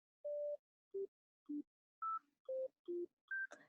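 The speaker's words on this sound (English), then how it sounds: "Just kind of sounds very simple, very sine-y, like a sine wave." Simple synth notes played one at a time on a virtual MIDI keyboard in Reaper, each a pure sine-wave tone at a different pitch, with short gaps between them, clean and alone.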